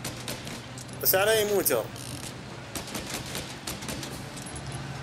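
Rapid bursts of gunfire ring out from a moving car in the game Mafia, with quick clustered shots and mechanical clatter over engine noise, while someone speaks between the shots.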